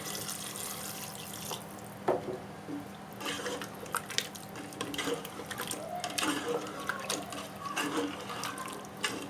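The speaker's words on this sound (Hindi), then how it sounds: "1 गिलास पानी शामिल करें इसमें।" A glass of water poured into a cooking pot of smoked mutton, heard as splashing, gurgling liquid with occasional drips and clinks that runs unevenly for several seconds.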